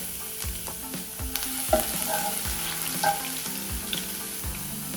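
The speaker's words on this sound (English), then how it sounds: "Since the cumin seeds are sizzling, we will also add chopped garlic" Cumin seeds and chopped garlic sizzle in hot oil in a pan for chana masala, a steady crackling fry broken by repeated low knocks of stirring, with no talk.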